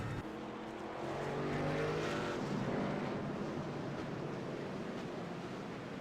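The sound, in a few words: race car engine at Rockingham in iRacing video game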